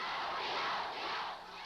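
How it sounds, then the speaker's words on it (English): A large outdoor crowd at a Cambodian rally chants slogans in unison, a loud, broad roar of many voices at a distance that dips at the end. "And the crowd chimes in on cue. Crush, crush the Pol Potists, they chant."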